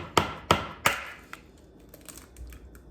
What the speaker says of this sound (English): And last but not least, the 1 egg. We're cracking it.